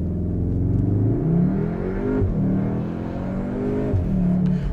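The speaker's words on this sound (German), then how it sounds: "Ich gebe jetzt nochmal Gas." A 2021 Cupra Formentor VZ engine (310 PS) revs and accelerates up through its gears, rising in pitch twice with a gear change between, loud and close.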